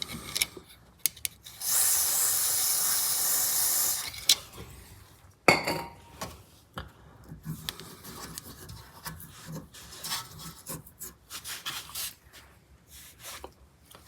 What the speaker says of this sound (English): And some silicone spray inside.